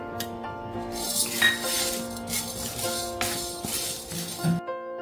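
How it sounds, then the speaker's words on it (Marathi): Chana dal is dry-roasted in a pan, with a metal spoon clinking and scraping against the pan in a steady stirring rhythm, close and fairly loud, and a faint sizzle underneath. "आता आपण हरभरा डाळ भाजून घेऊ"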